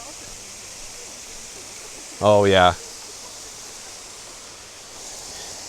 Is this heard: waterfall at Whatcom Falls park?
yes